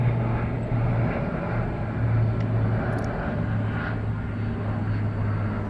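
An airplane passes overhead outdoors, a steady low engine drone that holds at an even level throughout with no talking.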